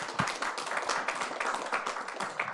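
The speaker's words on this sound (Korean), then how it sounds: "우리 선교사님을 위해서 한번 감사의 박수 한번 드리도록 하겠습니다." A church congregation claps in thanks for a missionary, a scattered patter of hands at moderate distance that stays steady without any voices.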